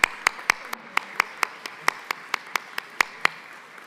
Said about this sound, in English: One more round of applause for the vocal ensemble.